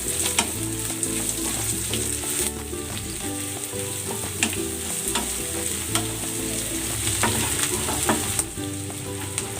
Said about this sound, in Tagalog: para makapagisa na tayo ng bawang. At ng sibuyas